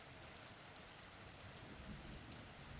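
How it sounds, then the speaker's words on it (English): Steady rain patters against a bedroom window, a soft, continuous wash of drops heard alone and faintly throughout. "pitter-patter of raindrops against my bedroom window"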